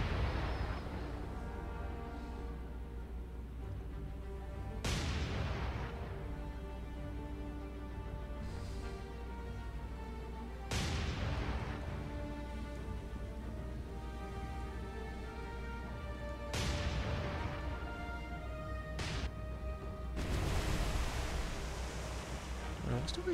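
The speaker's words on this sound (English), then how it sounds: "I should also give these 5 inches time to open fire as well." 5-inch naval guns firing in the War on the Sea naval game, four or five heavy booming shots spaced several seconds apart over a constant low rumble of sea and engine noise.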